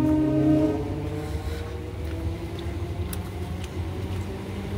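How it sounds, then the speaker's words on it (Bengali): A train passes near a suburban station, opening with a horn blast that fades into a continuous rumble and clatter of wagons rolling by, fairly loud and steady with no speech. "দেখতেই পাচ্ছ ট্রেন যাচ্ছে।"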